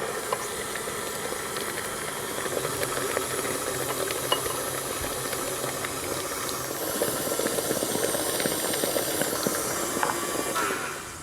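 An electric mixer beats butter, sugar and eggs with a continuous whirring hiss that holds steady and fairly loud from start to finish, no voices present.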